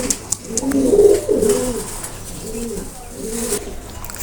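Pigeons coo in soft, repeated rolling phrases at close range, several overlapping calls across a few seconds with faint background noise. The birds are pedigree breeds offered for sale, including Teddy and Tiger types.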